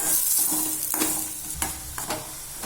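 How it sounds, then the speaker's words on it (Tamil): Green beans sautéing in oil in a pan for vegetable cutlets: a steady close sizzle broken by several sharp scraping spoon strokes at irregular intervals, with no talking. "பீன்ஸ் போட்டு வதக்கிக்கலாம்."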